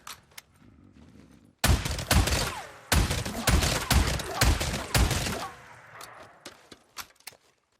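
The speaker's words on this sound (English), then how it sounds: "in the shotgun category, we have the Liberator, probably the fastest shotgun in the game" The Liberator shotgun firing in Days Gone: a quick series of loud, heavy blasts in rapid succession, close and punchy, with a few fainter shots trailing off afterward.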